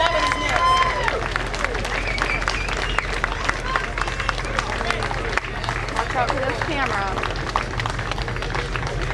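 At a small-town Independence Day parade, a crowd claps steadily for a passing Vietnam veteran, giving a continuous patter of applause while several voices talk over it.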